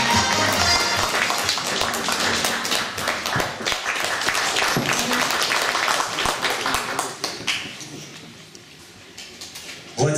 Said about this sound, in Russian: Встречайте, ваши аплодисменты.